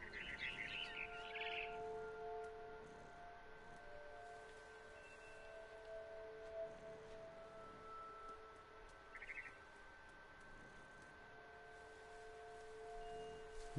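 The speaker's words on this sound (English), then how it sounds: "Then I heard chirping outside my window. Oh. It was a barn swallow going back to her nest." Barn swallow chirping in the video game What Remains of Edith Finch, a quick cluster of faint twittering calls at the start and another short chirp later, over a quiet steady ambient hum.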